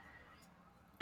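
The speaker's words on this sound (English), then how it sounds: "Sorry for the cough." A single short, sharp cough bursts out close to the microphone after a moment of near silence.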